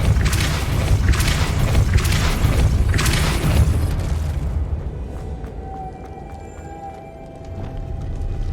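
A Depulso spell blast in Hogwarts Legacy gives a loud, booming rush with rumbling, pulsing bursts that ends abruptly midway, leaving a quieter, droning game ambience.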